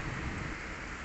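Rain falling on potted home-garden plants during the rainy season: a dense, even hiss of drops, loud and continuous, without pauses or talking.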